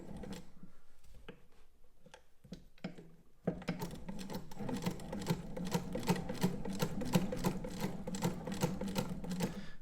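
An 1869 Wheeler & Wilson No8 sewing machine runs a top stitch: a few quiet handling clicks, then a rapid, steady mechanical clatter of stitching close up that keeps going to the end.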